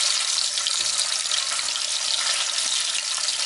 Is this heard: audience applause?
no